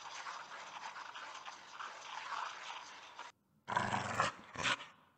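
A dog growls in a hidden object Christmas puzzle game, a long low rumbling snarl followed after a short pause by two louder, harsher bursts of growling.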